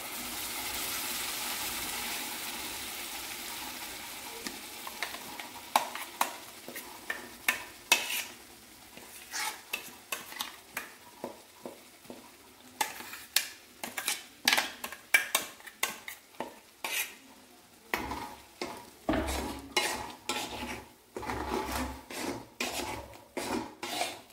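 Onion and spinach frying in a pan for palak keerai gravy, with a steady sizzle and repeated sharp scraping and clinking of a spoon stirring against the metal, growing busier and louder toward the end, no talk.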